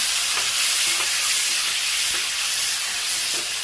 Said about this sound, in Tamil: வெங்காயம் நல்லா வதக்கி வச்சு இப்போ நம்ம தக்காளி போடலாம்